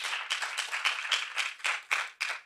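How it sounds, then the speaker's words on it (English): An audience at a refugee women leaders innovation event claps in a round of applause, with loud, close, distinct claps that swell in rhythmic bursts throughout. "a round of applause virtually and physically to you ladies, to yourselves"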